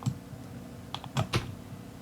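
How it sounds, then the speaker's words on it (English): A few quiet computer keyboard key presses, two or three soft clicks close together over a low room hum, with no talking. "Let's press I on the keyboard"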